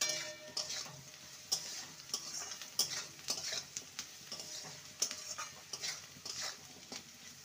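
Okra and potato are stirred in a pan with turmeric and salt, giving a quiet, continuous frying sizzle with repeated light taps and scrapes of a spatula.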